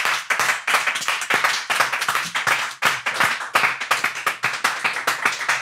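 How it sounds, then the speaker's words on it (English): Sustained audience clapping for a guest arriving on a podcast set: loud, close, fast individual claps forming a continuous rhythmic applause that carries on for several seconds. "That's a long clap. That was the best clap I've seen."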